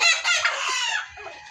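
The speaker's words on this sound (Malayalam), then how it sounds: "ഇതാണ് കടിഞ്ഞൂൽ കോഴികൾ കേട്ടോ" Native country hens of first-laying age at a farm in Kottathara, clucking in a dense, continuous flurry close by, with overlapping calls and no talk.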